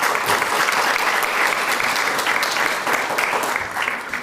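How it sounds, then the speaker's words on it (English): A round of applause at a paramedic cording ceremony, many people clapping in a thick, continuous wash that holds steady for several seconds and eases slightly at the end. "if I could get a round of applause"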